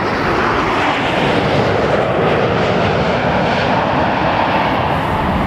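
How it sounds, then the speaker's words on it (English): A heavy jet airliner passes overhead at Toronto Pearson Airport, its engines producing a loud, close, continuous roar that holds steady for several seconds without any talk. "Nice to get a heavy fly overhead."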